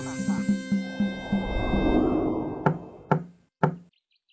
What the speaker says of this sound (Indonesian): Terdengar suara ketukan pintu.